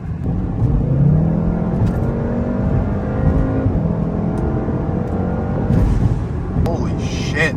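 A Volkswagen Golf R in fun drive mode pulls hard from inside the cabin, engine note climbing through rising gear sweeps over loud road roar, with a person's voice audible near the end.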